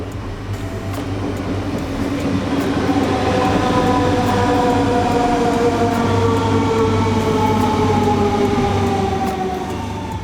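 Loud, steady rumble of a moving train heard from on board, with whining tones that slowly slide in pitch over the clatter.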